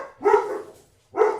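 Dogs barking indoors during a math lesson: two loud, close barks separated by a brief pause.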